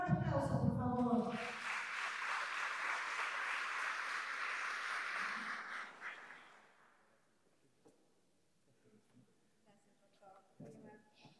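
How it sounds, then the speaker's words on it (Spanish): An audience at a public accountability event gives sustained applause, steady and fairly loud for several seconds after a voice speaks, then fading to quiet broken by faint murmurs. "Un fuerte aplauso, por favor."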